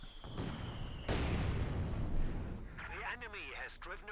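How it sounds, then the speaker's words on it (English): Company of Heroes 2 mortar shells land in heavy booming blasts with rumbling debris, a sharp impact followed by sustained explosive roar, while a commentator talks over the battle. "Taking a few mortar hits there."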